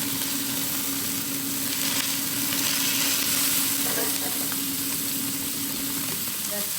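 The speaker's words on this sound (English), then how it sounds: "We are going to put them right to a very hot plate for 1 minute" Lamb chops sear on a very hot plate, giving a steady, loud, close sizzle and crackle of fat that runs unbroken the whole time.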